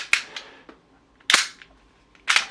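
An airsoft Glock pistol cycling through a magazine, with three loud, sharp cracking shots spaced apart, each with a short rattling decay, close and alone.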